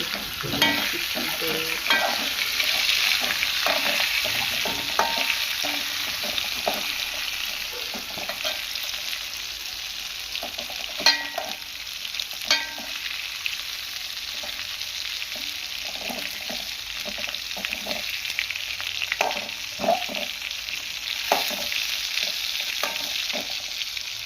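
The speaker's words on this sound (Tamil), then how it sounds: "சிக்கன் உறுத்திக்கிட்டு இருக்குது" Chicken pieces frying in a pan for beef biryani, a steady loud sizzle with stirring scrapes and clinks throughout, close up and without talk.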